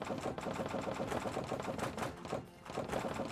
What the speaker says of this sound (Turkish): Bu da daktilo gibi değil mi?